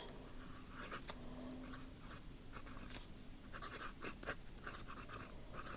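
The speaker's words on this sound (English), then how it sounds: "I'm not sure what it will look like if I try and do cursive" A fountain pen with a stub nib scratches out cursive on paper in soft, intermittent strokes, quiet and close, with brief pauses between words.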